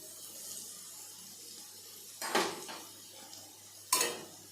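Fried potatoes with salt are stirred in a pan, giving two short, loud metallic scraping clatters over a quiet, faintly sizzling background.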